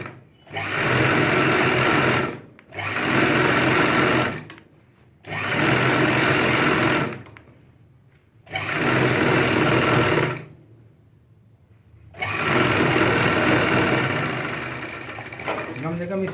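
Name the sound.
sewing machine stitching a ladies' pant leg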